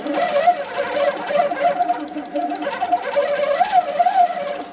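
A sewing machine stitches a quilt with a steady, close, rapid mechanical whirr and fine ticking that rises and falls slightly in speed, with no voices.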